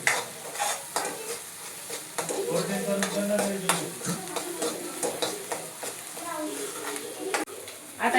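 Masala sautéing in oil in a pan for matar paneer, with repeated close stirring scrapes over a steady sizzle while someone talks throughout.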